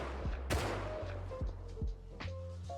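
An SAR rifle tap-fires in the game Rust, a series of single sharp shots spaced unevenly over a few seconds, each with a brief crack and low thump, over faint background noise and no talking.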